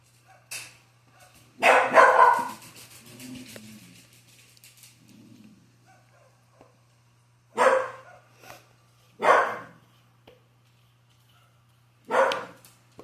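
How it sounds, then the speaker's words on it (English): A puppy barks in short bursts: a cluster of yips early on, then single sharp barks spaced a few seconds apart over a low hum. "my other puppy seems to be barking now"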